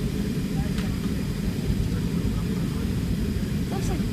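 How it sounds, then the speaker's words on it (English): An airliner taxis on the ground, its engines holding a steady, loud, broad roar heard from inside the cabin, with no clear speech. "The plane is just driving back inside."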